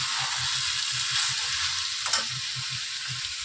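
Snake gourd frying in a pan gives a steady, close hiss of oil sizzle with soft rhythmic bubbling pulses underneath, with no voices.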